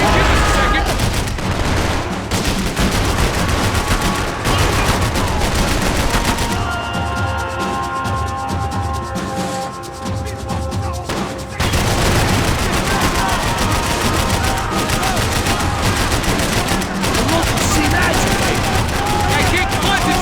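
Gunfire from Max Payne 3 keeps up dense, loud automatic bursts and rattling volleys. A brief quieter stretch in the middle carries tonal music and effects, and then the heavy shooting resumes with shouted voices mixed in.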